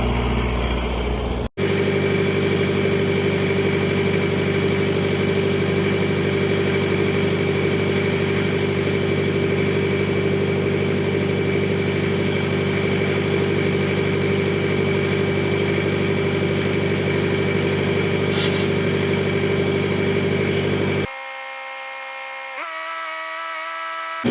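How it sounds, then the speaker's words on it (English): A smudge pot heater engine cranks and then runs steadily at a loud, close, even idle for about twenty seconds before cutting to a quieter, different tone. "Let's see if this thing will crank."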